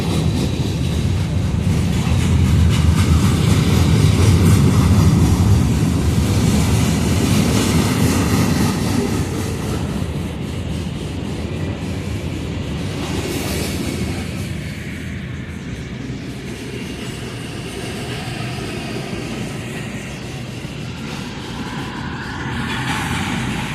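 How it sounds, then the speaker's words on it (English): An early morning train rolls past a level crossing, its steady rumble and clatter of wagons loud and close at first, then gradually easing as the cars pass. "Got stopped by a train."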